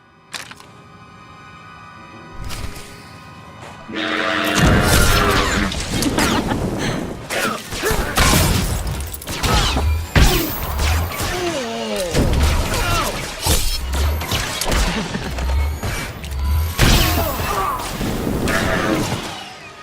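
Blaster fire and explosions in a Star Wars: The Old Republic Bounty Hunter battle on Tatooine: loud repeated shots, crashing blasts and heavy low thuds keep going for most of the clip after a quieter opening.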